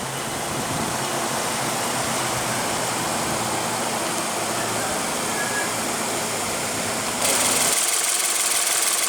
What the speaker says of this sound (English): under the hood here we have the 2-liter 4-cylinder that's horizontally opposed